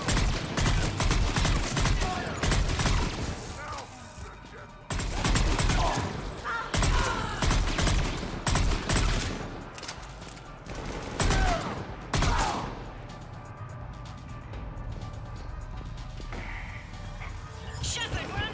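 Rapid gunfire crackles and clatters in repeated loud volleys during a firefight in the video game Mass Effect 3, with shouted voices heard between and over the shots.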